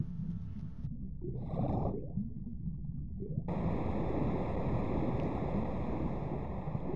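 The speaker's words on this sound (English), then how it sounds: "that sounds like it lowered the water level" Water draining away as a flooded cistern's level drops in the Tomb Raider I Remaster, a steady full rushing wash that swells and settles, with a faint hum over it and no talk.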